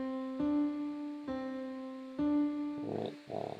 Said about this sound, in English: There's the minor second.